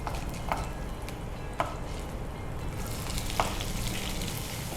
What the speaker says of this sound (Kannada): ನೆಕ್ಸ್ಟ್ ಈರುಳ್ಳಿ ಹಾಕ್ತೀವಿ.